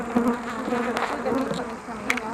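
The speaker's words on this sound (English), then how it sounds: "Now look how these bees have increased in bee numbers." Honey bees buzzing loudly around an open beehive, a close, continuous droning hum with wavering pitch as individual bees pass near, plus faint scattered handling clicks.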